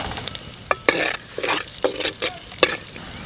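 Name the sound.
garlic sizzling in hot oil with vadagam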